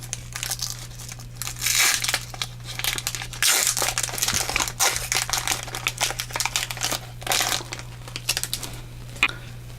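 Foil wrapper of a My Little Pony trading card pack being torn and opened, a close, steady crinkling and crackling run across the whole stretch with brief louder bursts and no voices, over a faint low hum.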